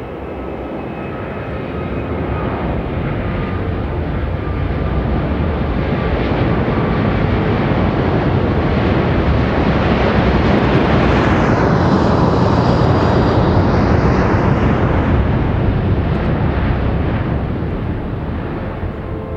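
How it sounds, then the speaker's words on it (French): An Airbus A380 airliner flies past at the Paris Air Show, its engines a loud, continuous roar that swells and sweeps overhead for nearly twenty seconds with no talking. "Thierry Bourges et Gérard Desbois, voici l'Airbus 380"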